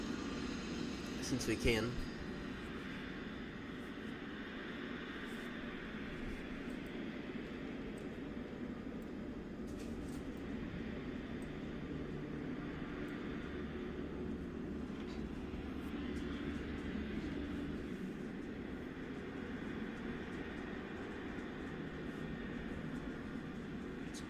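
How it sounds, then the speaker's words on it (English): Steady, faint jet engine rumble of an arriving airliner in Microsoft Flight Simulator, a continuous low whoosh throughout, with someone speaking briefly near the start. "You can quickly watch this arrival aircraft."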